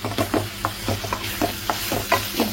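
Half a tomato goes into mutton frying for sukka while a spoon stirs, giving rhythmic scraping strokes about every quarter second over a steady low sizzle, close and clear with no talk.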